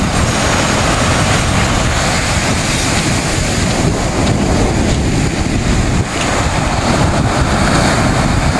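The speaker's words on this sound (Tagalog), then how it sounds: "Oh, ang lakas ng alon." Loud, continuous rush of strong ocean surf mixed with heavy wind buffeting the microphone, with no pauses.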